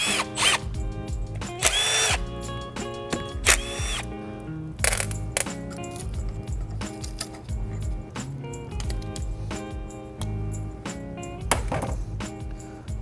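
Power tool spinning out bolts from an RTV-sealed shaft seal housing, delivered as repeated short whirring bursts with brief pauses and ratcheting clicks between them, loud and close, with no talking.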